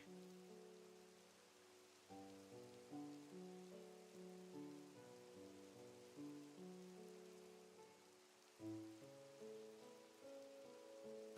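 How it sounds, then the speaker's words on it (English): Minecraft rain falling in the game as a faint, steady hiss, with quiet background game music on top. "Oh, and it's raining."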